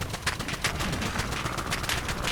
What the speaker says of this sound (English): I'll tell you what, the recoil's nice on the full auto.